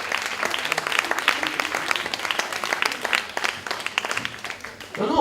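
An audience applauds at an evening event while a bouquet of flowers is presented, with continuous, lively clapping that stays fairly loud and even throughout.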